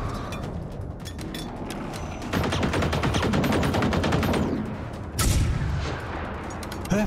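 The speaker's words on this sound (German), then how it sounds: "Letzter Schuss, gell?" Gunfire rattles in the video game Generation Zero, rapid automatic bursts and dense shots crackling close and loud over several seconds, easing off briefly before a final sharp blast.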